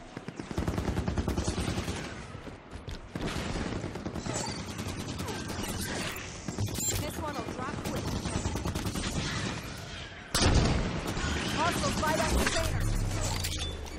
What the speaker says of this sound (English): God, they're shooting me like crazy!